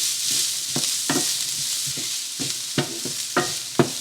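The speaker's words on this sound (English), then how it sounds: "let's saute this till the onions turn translucent" Diced onion and garlic sizzle in a hot pan while a spoon stirs them, producing a steady frying hiss broken by several distinct scraping knocks at an uneven rhythm.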